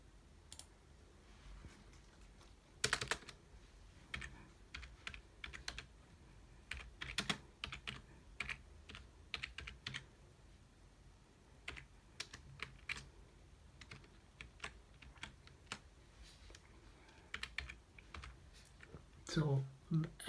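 Typing a command on a computer keyboard, with irregular bursts of light, close keystrokes and clicks spread across twenty seconds in a quiet room, some louder taps standing out.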